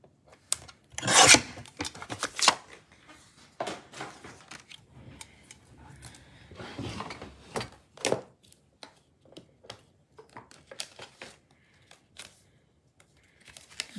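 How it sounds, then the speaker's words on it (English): A paper card base is trimmed close by in rough, scraping bursts, two longer swipes separated by quieter clicks, taps and light rustling. "So I'm gonna trim this to 4 1/8 by 5 3/8"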